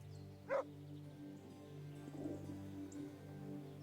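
A dog in a video game lets out a single sharp bark over steady, droning game music, followed by softer rustling sounds.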